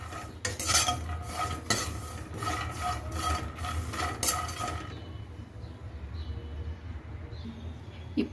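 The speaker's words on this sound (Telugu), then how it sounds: "1 స్పూన్ జీలకర్ర, వీటిని ఫ్రై అయ్యేలా వేయించుకుందాం." A spoonful of cumin seeds fries in a pan for a stuffed eggplant curry while a utensil stirs them in fast, rhythmic scraping strokes. The stirring stops after about five seconds, leaving a quieter low sizzle.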